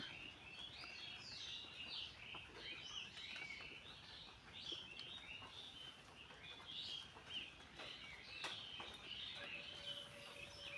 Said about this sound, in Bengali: অনেক অনেক অনেক সুন্দর পাখিরা ডাকতেছে